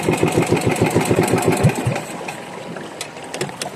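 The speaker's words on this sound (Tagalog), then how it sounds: "patayin na natin yung ating makina" A boat engine idles with a rapid, even chugging on a crab-fishing trip, then cuts off partway through, leaving quieter background noise and a few faint clicks.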